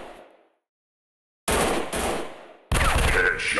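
Gunfire from the mobile shooter game Gun Strike 3D Shooter, with sharp bursts of automatic fire separated by short silences, loud and close, the last burst louder and more layered.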